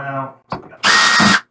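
A power screwdriver backs screws out of an Arcade1Up Tron arcade cabinet panel, a short whir followed by a louder, steady whine of about half a second, close by; a voice is heard just before.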